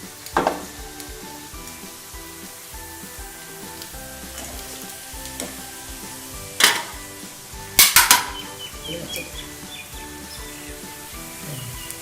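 Sliced okra (native vendakkai) frying in hot oil, a steady close sizzle throughout, broken by a few metal scrapes and clinks of a ladle or strainer in the pan.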